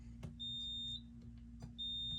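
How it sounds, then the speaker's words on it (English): A CE Electronics elevator floor-passing chime beeps in two sustained tones separated by a pause, over a steady low machine hum, with a few faint clicks. "the CE Electronics floor passing chime is the only thing that's beeping right now"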